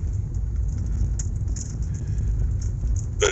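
Steady low road rumble of a car driving on a hazy, foggy day, with faint rattles and a light jingle over the continuous engine and tire noise, no voices.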